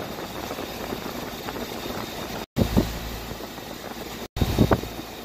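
An air conditioner compressor runs with a steady, mid-level mechanical hum and light rattle, close by and unbroken apart from two brief dropouts.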